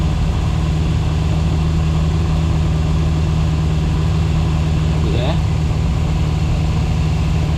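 A Fiat X19 engine idles steadily with a constant low rumble throughout, up close and loud, after an ignition rebuild, with a brief faint rising tone partway through.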